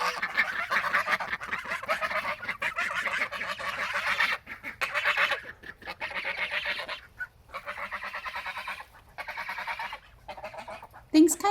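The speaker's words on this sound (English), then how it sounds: "we got geese to protect the chickens, and we got ducks to produce some nice duck eggs" Geese and ducks kept on a small farm honk and quack in a loud, continuous jumble, with overlapping calls running through nearly the whole stretch and only brief lulls.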